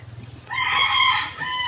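A chicken vocalizes close by in a drawn-out, crowing-like call, with a low rhythmic hum running underneath.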